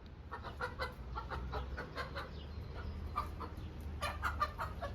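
Chickens and a rooster cluck and squawk in short bursts close by in a garden, with a low rumble of background noise running underneath.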